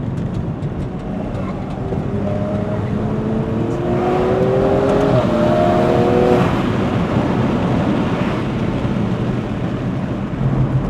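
A tuned Stage 2+ G20 BMW M340i accelerates hard up a mountain road toward Genting in Malaysia. The loud, continuous engine note climbs steadily in pitch through the gears over a heavy rumble and eases off near the end.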